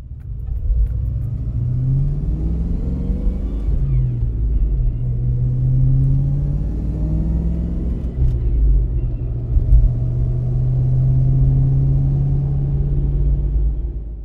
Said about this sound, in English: the engine RPM falls between gears in a slower, more predictable fashion. This makes shifting a manual transmission smoothly easier.